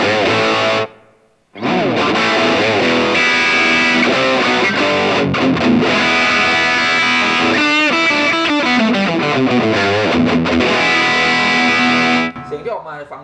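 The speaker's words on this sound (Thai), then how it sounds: "ลองมาฟังไปทางด้านเสียงแตกมันครับผมก็จะลองปรับแอมแฟตก่อนเลยนะครับแล้วก็อาจจะมีเปิดเอฟเฟกต์ร" Electric guitar driven through a Kustom KG212FX combo amp on its distortion channel with a touch of reverb, a thick, gritty, sustained overdriven tone playing continuously and loud after a brief pause near the start.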